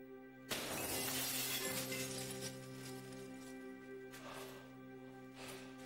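A sheet of window glass shatters at close range with a sharp crash and a long bright spray of falling fragments, followed by a second smaller burst of tinkling shards later, over a faint steady electrical hum.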